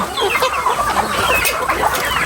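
Many laying hens cluck steadily on a Philippine farm, a dense overlapping chorus of calls close by and continuous with no talk.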